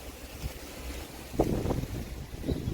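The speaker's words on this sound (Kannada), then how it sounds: "ಅಷ್ಟು ಗಾಳಿ ಬೀಸ್ತಾ ಇದೆ ನೋಡಿ" Wind rushes steadily in a low roar, buffeting the microphone, with a couple of stronger gusts midway, as rain begins; no voices.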